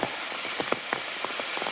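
Heavy rain pours down on a mountain trail on the Appalachian Trail in July, a dense steady hiss with scattered sharper drips and splashes, close and continuous, with no voices.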